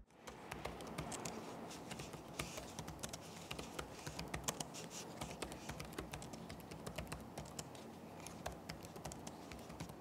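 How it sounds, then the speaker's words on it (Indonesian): Continuous typing on the keyboard of an Acer TravelMate Spin P4 TMP414RN laptop, a dense, steady patter of close-up key clicks and thumps with no talking. "berikut ini deh, adalah contoh suara feedback dari keyboard Acer Travel Match Pin P4 TMP414RN"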